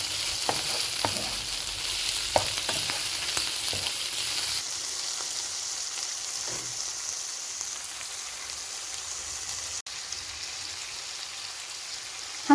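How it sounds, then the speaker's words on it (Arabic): Clams hit a hot pan of onion and garlic in a seafood pasta with shrimp, giving off a steady loud sizzle with scattered pops and crackles and no talking. "هنزل دلوقتي بالجندفلي بتاعي"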